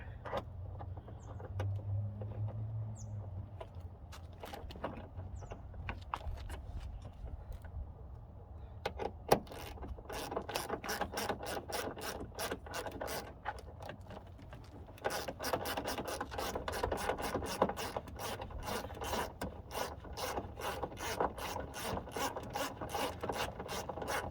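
A screw is driven into the tail light of a 2004 Audi B6 A4 Quattro, giving a quiet, close run of rapid ratcheting clicks that pause briefly and then resume in a denser burst.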